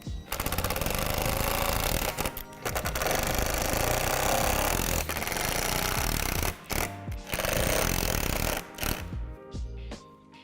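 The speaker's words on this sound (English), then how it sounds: "you're going to need to use a drill to attach them" A loud, steady power drill whirs close by in bursts as it drives screws while assembling a storage chest, dropping out briefly a few times before starting up again.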